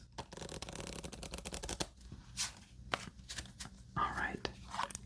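A deck of playing cards shuffled between solitaire games, a quick run of riffling flicks followed by a few soft taps and slides, close and quiet.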